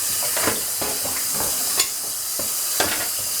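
Water sprays steadily into a sink while guinea pig cage parts are rinsed, giving a close, even hiss broken by a few light knocks and splashes.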